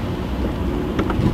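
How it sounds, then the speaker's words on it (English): Heavy rain pours steadily during a flooding downpour, a dense continuous hiss with faint low rumble, heard briefly and without talk. "Heavy rain."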